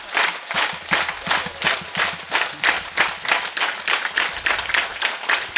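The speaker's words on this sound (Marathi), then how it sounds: "माझ्यासोबत सगळ्यांनी एक टाळी वाजवायच्या" An audience claps in steady unison along with a devotional bhajan, a loud, even beat of many hands repeating throughout with no talking.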